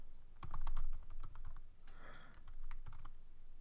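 Typing an email address on a computer keyboard: quick clusters of close, crisp key clicks in an uneven rhythm, with a short pause between bursts.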